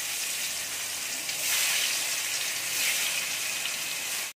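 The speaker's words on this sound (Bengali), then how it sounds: "তেলটা গরম হয়ে গেছে, আমি একে একে মাছগুলো ছেড়ে দেব।" Stingray pieces frying in hot oil in a wok: a steady, dense sizzle and crackle at close range, swelling briefly midway and cutting off abruptly at the end, with no voices.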